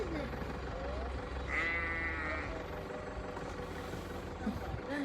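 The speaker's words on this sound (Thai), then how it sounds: "แวะดูแพะ แพะแกะเขาเรียกแพะ หรือแกะ ข้างทาง" Goats at a roadside goat farm, with one clear bleat rising over a low idling vehicle hum while people talk nearby.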